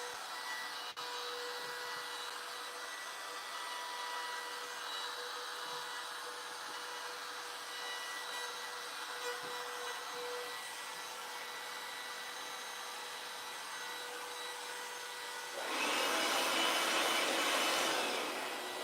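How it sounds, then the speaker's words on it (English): Small electric blower, a Milwaukee or Bauer, whirring steadily at low level with a tonal hum, then a louder, airier rush over the last few seconds as it blows harder. "So guys, that little blower,"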